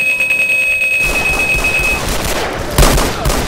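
Rapid gunfire in the video game Resistance and Liberation rattles in dense bursts with a ringing tone early on, then a louder close shot near the end, without speech.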